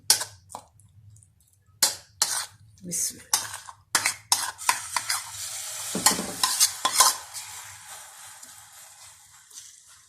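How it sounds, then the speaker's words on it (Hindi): A bread omelette goes into hot oil in a pan, starting with scattered sharp clinks and taps of utensils, then settling into a close, steadily building sizzle; a brief cough-like sound occurs partway through. "ऑयल हमारा गर्म हो गया, अब मैं ब्रेड ऑमलेट डालने लगी हूँ"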